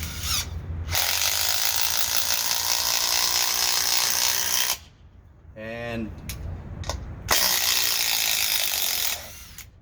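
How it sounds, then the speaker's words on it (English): A DeWalt DCF801 12-volt impact driver runs in two long, loud bursts of rapid rattling hammering, with a short pause between them where a voice briefly speaks. "we're gonna try it now with the 12 volt drill"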